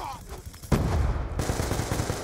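Loud, rapid automatic gunfire from Call of Duty Black Ops 2 multiplayer cracks in close, dense bursts. Another burst starts partway through.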